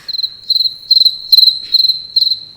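A cricket chirping indoors, heard inside a room at night, giving loud, close, rapid pulsed trills in regular bursts, alone with no talk.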